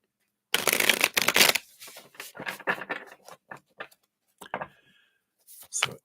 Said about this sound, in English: All right, let's give these a shuffle.